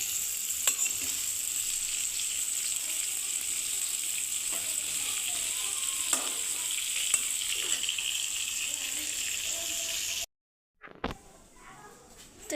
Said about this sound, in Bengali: এই ডিম দিয়া মাছ দিয়া ভুনা করে দিতেছি